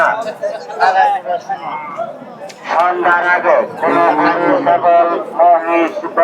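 Cattle at a busy livestock market low and moo in short bursts while men bargain and chatter close by over a steady crowd murmur.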